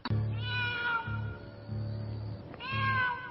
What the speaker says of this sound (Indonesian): Restu, aku mendengar suara seekor kucing di atas atap rumah